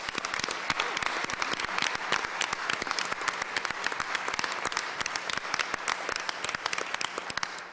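Steady, dense applause from a theater audience at a city State of the City evening, many hands clapping rapidly and evenly throughout, with no speech over it.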